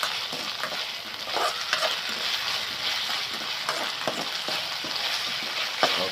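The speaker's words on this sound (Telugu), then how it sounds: "ఈ అల్లం వెల్లుల్లి పేస్టు పచ్చి వాసన పోయేంత వరకు బాగా వేగనిచ్చుకుందామండి." Ginger garlic paste frying in a pan while it is stirred, a continuous close sizzle broken by frequent scraping strokes of the spoon, steady in loudness with no talking.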